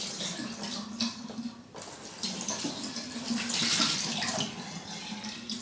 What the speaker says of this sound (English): I'm just gonna dump a glass of water on it.